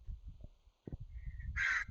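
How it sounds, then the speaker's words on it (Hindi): A crow caws once near the end, short and fairly clear, after soft low thumps and quiet background noise. "कौवे की आवाज आ रही मुझे"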